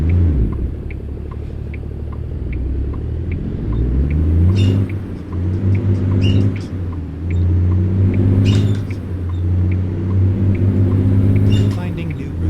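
Truck engine in American Truck Simulator labouring up a slope in second gear, a loud steady low rumble with a droning tone that holds throughout, with a person talking over it.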